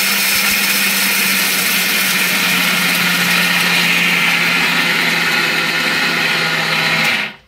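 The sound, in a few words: mixer grinder grinding roasted sesame seeds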